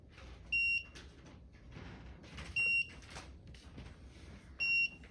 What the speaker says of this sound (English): that's the voltage alarm on the Windy Nation inverter.